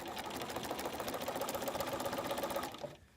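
A sewing machine stitches fabric seams in a fast, even needle rhythm for under three seconds, then stops abruptly, close and fairly quiet, with no talking.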